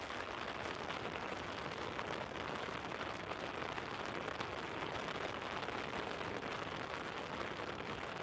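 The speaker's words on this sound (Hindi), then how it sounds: "अरे बारिश आ रहा है भाई" Steady rain pours down during flooding in Raigarh, a dense continuous hiss of drops hitting surfaces at even loudness throughout, with no voices.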